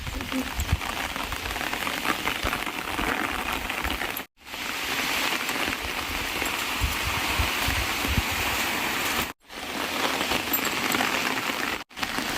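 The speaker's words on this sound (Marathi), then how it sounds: "पाऊस खूप वाढलाय." Steady, dense rain hisses and patters across the whole clip, briefly cut off a few times, with low rumbling thuds beneath.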